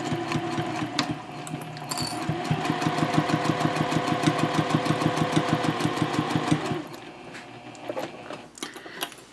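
A sewing machine stitches the pocket sides of a messenger handbag at a 2.5 stitch length, a rapid, steady mechanical chatter running loud and close for several seconds before stopping abruptly.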